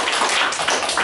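Congregation at a Sunday church worship service clapping together, a dense burst of many hands applauding steadily for about a second, loud and close with no talk over it.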